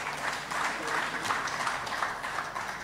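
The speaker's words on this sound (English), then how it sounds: "Let's give them a hearty clap." Member states are thanked with steady, moderately loud audience clapping at a regional address, continuous and dense throughout with no speech over it.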